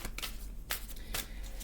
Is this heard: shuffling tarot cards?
yes